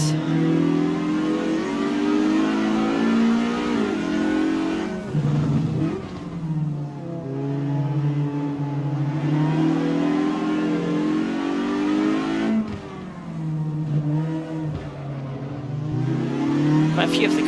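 Jide 1600 S race car in Assetto Corsa at Ahvenisto, its engine droning steadily with pitch rising and dipping through gear changes, running close behind a pack of other cars, loud and continuous with brief lifts.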